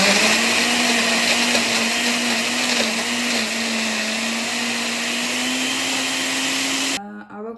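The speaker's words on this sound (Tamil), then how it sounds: "மிக்ஸி ஆன் பண்ணுவோம்." An electric blender whirs loudly and steadily, blending avocado with tender coconut water into a smoothie, then cuts off abruptly near the end.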